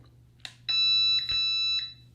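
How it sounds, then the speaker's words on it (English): A Kwikset 905 touchpad keypad deadbolt gives electronic beeps after its program button is pressed. A couple of soft clicks lead into sustained, bright beep tones heard up close in a quiet room. "You're gonna hear 2 beeps"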